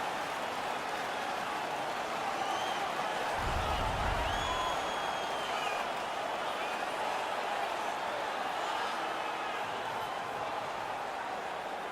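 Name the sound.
ecstatic home crowd cheering in NHL 16 video game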